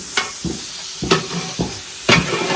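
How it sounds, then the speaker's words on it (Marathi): Whole garam masala spices sizzling in hot oil in a pan for a village-style mutton curry, a close frying hiss broken by rhythmic scraping stirs about every half second. "मस्त तेल तापलं आणि फोडणी बघा सगळे अख्खे गरम मसाले मस्तपैकी परतून झालेले आहे"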